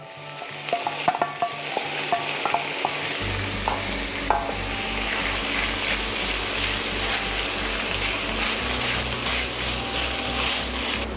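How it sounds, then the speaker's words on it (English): Ground pork drops into a hot pan and sizzles loudly, a dense continuous frying hiss with stirring scrapes, preceded by a few light clinks before the meat goes in. "The pan's nice and hot. Let's put in the ground pork."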